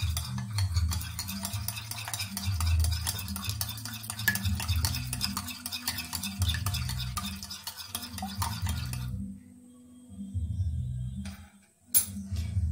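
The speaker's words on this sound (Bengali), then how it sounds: "নুন দিয়ে ডিমটাকে ভালোভাবে ফেটে নিচ্ছি।" Eggs being beaten with salt in a bowl, a steady rapid whisking and clattering that runs continuously for about nine seconds, pauses, then resumes briefly and ends with a sharp knock.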